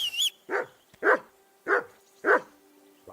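Dog barking in Kingdom Come: Deliverance II, four evenly spaced gruff barks at close range following a brief whistle-like tone at the start, with no talking.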